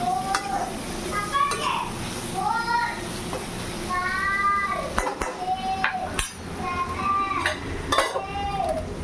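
Ghee heating in a pan on a home stove, a steady soft sizzle running throughout, with a cat meowing repeatedly nearby and occasional clinks of utensils against the pan.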